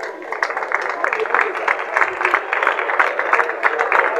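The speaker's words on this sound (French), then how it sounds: "Sous nos applaudissements, s'il vous plaît" An audience at a Kinshasa project event applauds an engineering group, giving brisk, fairly close clapping that continues steadily throughout, with a voice partly audible beneath it.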